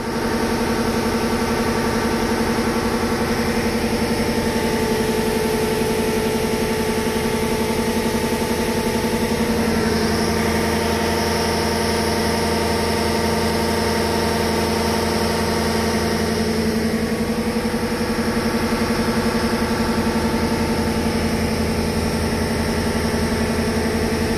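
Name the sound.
Toyota Hilux 1KZ diesel engine running on dyno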